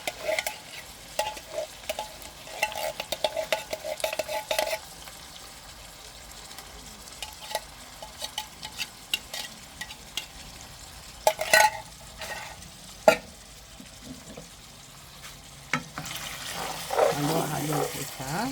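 Meat being stirred in coconut cream in a pan, with repeated scraping and clicking of a utensil against the pan over a gentle background sizzle, plus a brief stretch of running water near the end.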